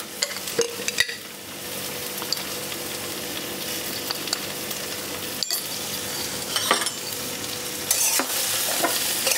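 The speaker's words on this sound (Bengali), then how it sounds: "এটাকে খুব ভালো করে আমি আগে ভাজা ভাজা করে নেব" Vegetables seasoned with salt and turmeric fry over a medium flame, hissing steadily close up while a spatula stirs and scrapes the pan with occasional soft knocks and clinks.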